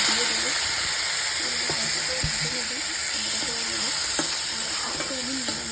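Peas go into potatoes and onions frying in a pan, a loud continuous sizzle with occasional clinks and stirring scrapes, close by, with a voice speaking intermittently over it.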